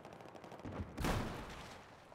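Gunfire aimed at the player in Battlefield 4's Dragon's Teeth expansion, a loud burst of shots that jumps in partway through and rings out over a background of battle noise.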